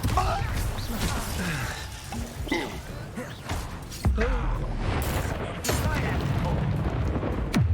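Confringo fire-blast spells from the wizarding game Hogwarts Legacy, booming explosive bursts amid a dense, chaotic combat soundscape, with a few sharp impacts standing out.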